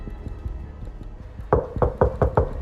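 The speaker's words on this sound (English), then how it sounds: "2 officers arrived and knocked on apartment 307, but no answer." Police officers knocking on an apartment door: a few soft taps at first, then a louder run of six sharp, evenly spaced knocks close by.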